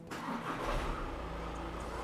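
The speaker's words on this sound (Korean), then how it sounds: "확실히 엔진 소음은 어느 정도 있는 편이긴 합니다. 근데 이거는 디젤이라서 어쩔 수가 없고" Diesel engine of an imported SUV, a Volkswagen Tiguan or Jeep Grand Cherokee, turning over and settling into a steady, fairly loud idle with a low rumble.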